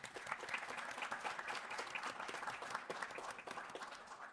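A crowd gives a round of applause for the people being honoured at a bilingual event, continuous clapping at moderate level with some individual claps standing out, no talk on top.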